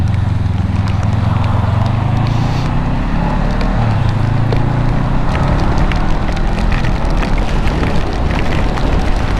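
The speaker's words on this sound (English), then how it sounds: "it's actually not raining that hard, but when you're driving," Rain during a monsoon storm heard while riding a motorcycle, a dense, steady hiss of rain and wind mixed with low engine and road rumble, continuous throughout.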